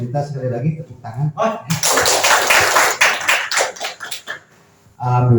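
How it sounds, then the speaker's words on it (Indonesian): Audience clapping at a school-vision seminar, a dense burst of claps from the room lasting a few seconds between spoken bits, fading out before a voice resumes. "Pak Mas, saya minta sekali lagi tepuk tangan."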